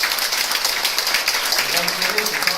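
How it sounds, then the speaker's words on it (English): Audience applause at a Nu Skin business meeting, a dense wash of clapping running throughout, with a voice talking over it. "I give my mom a big round of applause."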